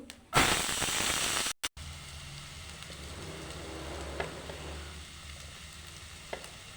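Potatoes hit hot oil tempered with black cumin seeds, setting off a loud, dense sizzle burst that drops after about a second to a steadier, quieter crackle of frying.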